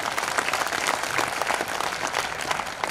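Audience applause at a Hindi kavi sammelan (poetry gathering) in Udaipur, a dense, steady wash of many hands clapping that runs loud and unbroken for the whole stretch.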